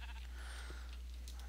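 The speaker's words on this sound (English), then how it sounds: "the mama and the papa sheep will be able to breed here." A sheep in the Minecraft video game lets out one short bleat over a constant low electrical hum, with no talking.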